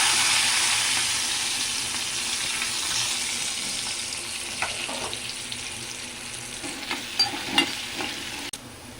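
Cut green chillies and onions fry in a pan on the stove in a steady soft sizzle, with a few light clinks and scrapes of a spoon stirring near the end.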